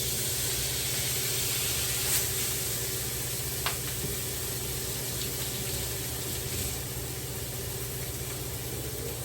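A steak sears in a very hot pan with a loud, steady, hissing sizzle that runs unbroken throughout, close up, with a couple of faint clicks and no talking.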